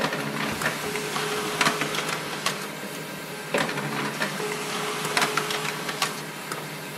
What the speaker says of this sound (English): I'm just going to print this one.